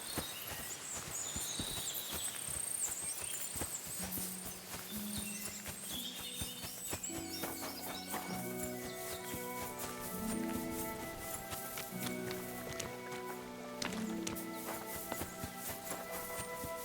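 Hooves of a pampered horse clip-clop in a steady walking rhythm through Kingdom Come Deliverance II, close and distinct, with a light melodic tune playing alongside.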